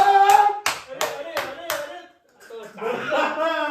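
Four sharp hand claps ring out in an even rhythm over people talking loudly and laughing in a comedic scene, followed by more lively talk.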